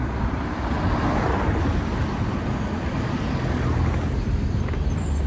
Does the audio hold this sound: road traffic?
yes